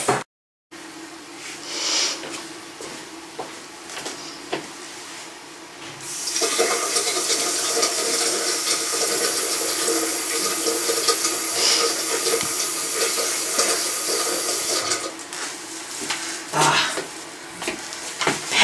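Water gushes from a tap in a steady hiss after a brief quiet start, running continuously and fairly loud with small fluctuations until it cuts back near the end.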